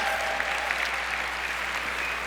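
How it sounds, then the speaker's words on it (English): Steady round of audience applause at a leadership conference session, even and continuous, moderately loud, heard from within the room without talk. "Let's give her another round of applause."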